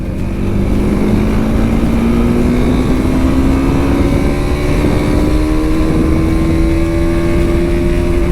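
A TVS Apache RTX 300 motorcycle in rally mode pulls away from fourth gear on a highway, its engine note climbing steadily and loudly under heavy wind roar throughout.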